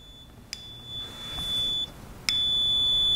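A thin, high-pitched electronic tone from an optical edge finder sounds steadily, breaking off briefly before resuming with a sharp click, set against quiet room noise.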